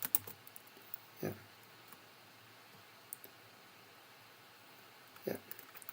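Sparse keystrokes on a computer keyboard, a few isolated clicks spread across a quiet room with faint background noise and no talk.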